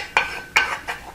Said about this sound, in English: So there I've got the lemon juice stirred around in the pan to get the rest of the oil and goodies